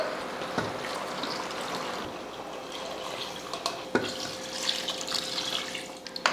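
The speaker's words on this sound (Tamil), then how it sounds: "இப்போ தண்ணி சேர்த்துடலாம்" Water pouring into a pan of country chicken curry, a continuous close splashing trickle with a few clinks of the vessel, no voices.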